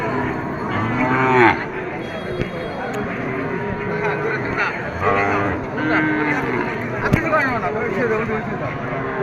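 Cattle, including bulls, low and moo repeatedly at the crowded Sonamukhi livestock market in Kazipur, Sirajganj, with several loud calls rising over steady crowd chatter and people talking nearby.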